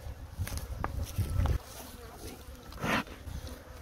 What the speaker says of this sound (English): these bees are now grumpy